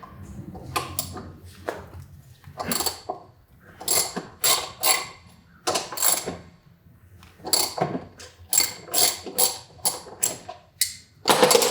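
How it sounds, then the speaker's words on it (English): A 3/8 drive ratchet turning a 12 millimeter socket on a Yamaha R6 sportbike, with repeated close bursts of rapid mechanical clicking separated by brief pauses, fairly loud and without talk. "Got a 12 millimeter socket here on a 3/8 drive ratchet."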